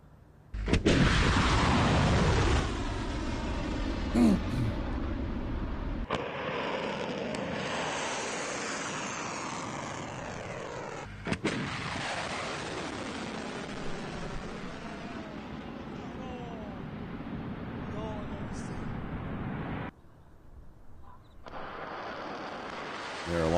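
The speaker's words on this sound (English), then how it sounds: "The IRGC Aerospace Force has just released footage showing the launch of Khyber Shakan and Ghadar ballistic missiles towards targets in Israel." Iranian IRGC Kheibar Shekan and Ghadr ballistic missiles launching, a loud, continuous broadband roar and rumble that surges and drops back with brief breaks, carrying through most of the stretch.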